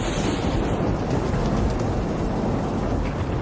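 Thunder during a heavy rainstorm: a dense, continuous roaring rumble with hissing rain, loud and unbroken throughout.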